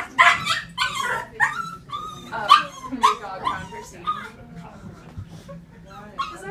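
A dog at puppy play time yips, whimpers and barks in quick, irregular bursts close by, while people talk in the background.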